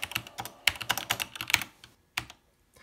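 A command is typed on an SWTPC 6800 computer keyboard: a quick, uneven run of sharp, close key clicks, a pause, then a few final keystrokes, with no voices.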